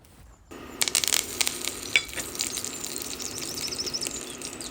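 Curry leaves hit hot oil already popping with mustard seeds, bursting into a loud, steady sizzle with sharp crackles in the first couple of seconds that then settles into continuous frying.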